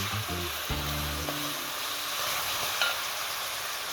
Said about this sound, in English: But I still like to give the fish a bit of fry